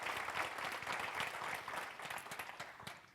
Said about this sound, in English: if we could give them a clap